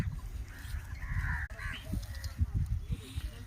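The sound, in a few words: flock of crows cawing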